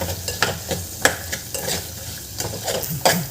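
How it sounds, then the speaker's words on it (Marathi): Green peas sauté with salt in a pan, sizzling softly while a spoon stirs them in quick, irregular scrapes and taps against the metal. "मीठ घातल्यावर आपल्याला याला छान परत एकदा परतवून घ्यायचं असतं आपल्याला"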